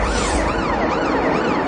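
An ambulance siren wails close and loud, its pitch sweeping up and down in a repeating rising and falling pattern.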